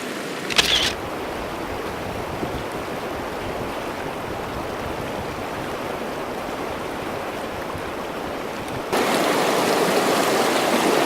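Water cascading over rocks in a canyon, a steady broadband rushing that fills the whole stretch, with a brief camera shutter click near the start and the flow growing louder and brighter toward the end.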